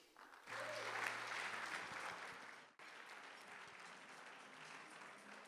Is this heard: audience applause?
yes